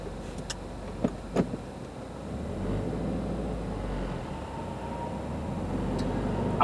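A 2015 Subaru WRX warms up while driving on a winter road, its steady engine and road rumble continuous after a few sharp ticks and knocks early on.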